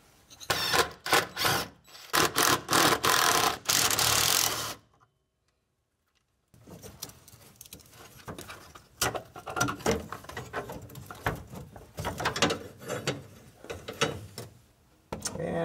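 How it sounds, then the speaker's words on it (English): Tools work a bracket off a Toyota JZX90/JZX100 Chaser, Cresta or Mark II fuel filter: close, rapid ratcheting clicks in bursts, a brief silence, then more irregular metallic clicking and rattling. "Now we're going to take off the bracket."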